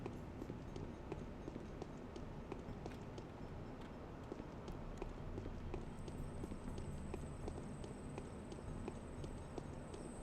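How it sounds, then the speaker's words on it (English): Footsteps walking in the video game Pathologic, a steady rapid patter of steps under a dense, noisy ambient background, with a thin high tone entering midway. "We'll just get to listen to a lot of footsteps."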